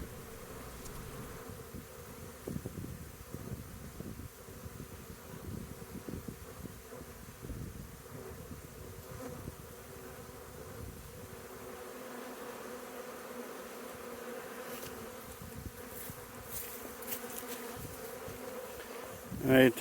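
Honeybees buzz steadily in a dense, continuous drone during a hive removal with a vacuum hose, the swarm sound staying close and fairly even throughout.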